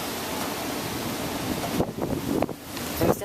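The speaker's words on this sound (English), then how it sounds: "There's definitely been really strong wind gusts." Strong Hurricane Sandy wind gusts roar as a broad rushing noise that buffets the microphone, holding steady before breaking into uneven bursts toward the end, with no voices.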